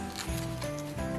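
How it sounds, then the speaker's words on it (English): Brief snip of scissors cutting excess ribbon on a homemade Christmas orange pomander, a close, quiet couple of blade closures over a faint rustle, with no talking. "I'm going to cut the excess ribbon."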